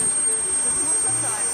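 An RC model turbine jet engine roars with a steady, loud, broad whine and hiss throughout, heard outdoors at a model airfield, with voices faintly underneath.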